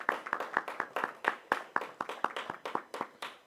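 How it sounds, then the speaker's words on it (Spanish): Sparse applause from a small audience at a university research-week panel, honoring Professor Tejada: a handful of distinct hand claps in a steady, moderately paced rhythm, fairly close and dry, with no voices over them. "un aplauso, por favor"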